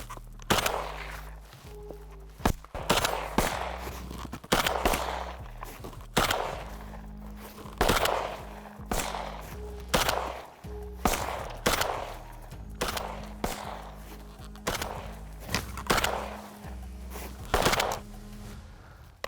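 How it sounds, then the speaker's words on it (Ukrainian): Rapid gunfire from two shooters doing snap-shooting practice, with bursts of sharp, loud shots in irregular clusters repeating over about twenty seconds and brief pauses between volleys. "Попрацюємо стрільба на вскидку удвох"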